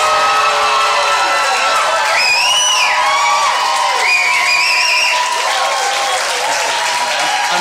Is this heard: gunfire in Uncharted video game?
no